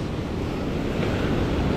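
Ocean waves wash steadily onto the beach at Playa del Carmen, a dense, even roar of surf mixed with wind buffeting the microphone, close and continuous with no voices.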